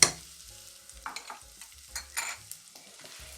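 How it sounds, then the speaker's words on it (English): Shallots sauté in a pan for fried rice with king prawns and scallops, a quiet sizzle punctuated by repeated soft scrapes and taps of stirring, close by. "and leave it to saute."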